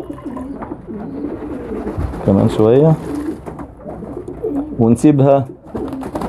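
Pigeons coo in soft, repeated throaty bursts nearby, mixed with other bird sounds, while someone talks over them during a bath treatment for pigeon insects such as lice and flies.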